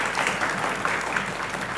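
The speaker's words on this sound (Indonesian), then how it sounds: "Kasih tepuk tangan tentunya." An audience applauds the first judge at a junior high school quick-answer quiz competition in Palembang, steady dense clapping filling the room without pause.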